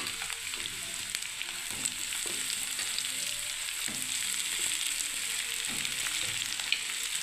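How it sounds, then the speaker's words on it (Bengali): Salted, turmeric-coated eggplant pieces frying in hot oil: a steady bright crackle and sizzle across the whole stretch, with scattered pops and soft clinks of handling, close up and without speech. "এই যে নুন আর হলুদ যে বেগুনগুলো আমি মাখিয়ে রেখেছি বন্ধুরা, এবার আমি এই তেলের মধ্যে দিয়ে দিচ্ছি"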